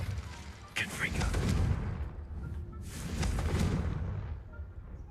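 A fiery Confringo spell cast in a video game produces two crackling, roaring bursts with a sustained rumbling blast between them, loud and close.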